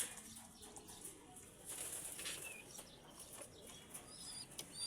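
Pigeons, including a mother bird, give a brief soft flurry of wing flaps amid faint, distant ambience; any cooing stays barely audible.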